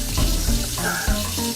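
Cold water running steadily from a kitchen tap into a sink, a continuous close splashing hiss with no voices, heard while preparing egg salad.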